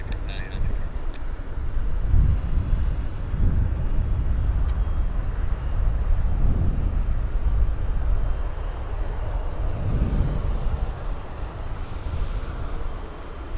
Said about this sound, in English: This is the A350 heading to Charles de Gaulle Airport, Paris.